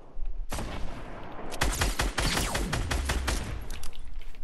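Rapid bursts of gunfire in a Season 6 duos battle-royale video game, starting abruptly and continuing as dense overlapping shots, loud and close, with no voices over it.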